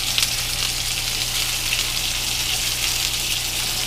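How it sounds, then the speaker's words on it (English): Water pours into a hot pot of cooking rice, a steady gushing hiss with sizzling under a low constant hum, with no talking heard. "I'm gonna add more water anyway."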